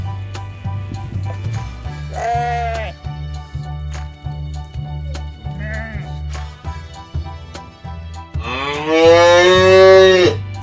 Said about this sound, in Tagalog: Sapi. Cow.